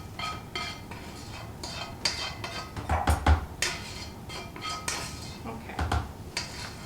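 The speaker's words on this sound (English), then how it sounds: "I want to scrape all of this pectin, the Sure-Jell, in here" A spoon scrapes Sure-Jell pectin into a bowl of pear freezer jam, giving a series of close, irregular scrapes and clinks against the bowl, with brief louder knocks around the middle and a voice talking at moments.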